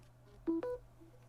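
A Samsung Galaxy Z Flip 5 plays its short two-tone chime as reverse wireless charging starts, one brief rising pair of electronic beeps over a quiet background hum.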